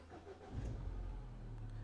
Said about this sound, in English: Now you can go ahead and press the brake and start the car.